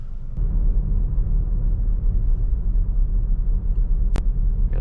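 A 2023 Mitsubishi Outlander SEL Premium cruises at night, steady low road and engine rumble filling the cabin throughout, with a brief sharp knock near the end.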